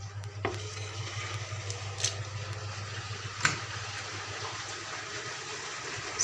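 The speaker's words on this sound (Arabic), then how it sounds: "معلش انا اسفه بقى عشان صوت الغساله بتفضي" A domestic washing machine drains water in the background, a low steady gurgling rumble with occasional soft knocks and splashes, moderately faint and without talk.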